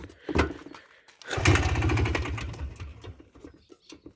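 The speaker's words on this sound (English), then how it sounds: "We're gonna make sure that she starts, pulling the pull cord, engine on, turn that on." A Polaris Trailboss 250 four-wheeler is pull-started: a quick cord yank, then the small engine sputters and chugs into a rough, rapid idle that gradually settles, heard close with no talk.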